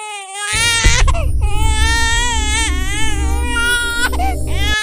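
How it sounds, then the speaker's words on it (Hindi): A newborn wails loudly and continuously, with rising and falling cries and brief gasps between them, close up and alone. "ये तो बेबी की रोने की आवाज है"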